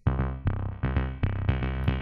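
Beatbox-style music track with punchy, repeating heavy beats about every quarter second, loud and dense with a bright tonal layer over the thumping pulse, no voices.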